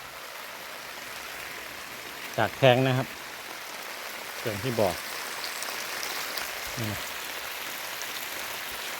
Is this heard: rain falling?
yes